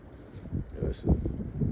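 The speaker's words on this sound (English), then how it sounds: "I'm at the lake, so it's a little windy" Wind buffeting a microphone outdoors at a lake, low rumbling gusts swelling and fading over a couple of seconds with no other clear sound.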